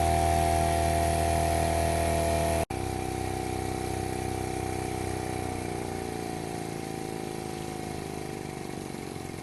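A small model steam engine drives a little generator, giving a steady, loud mechanical hum and whir that runs continuously after one brief break near the start.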